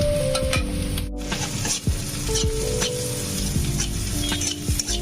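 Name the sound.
green chilies frying in a pan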